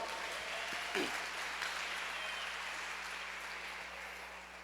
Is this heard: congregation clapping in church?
yes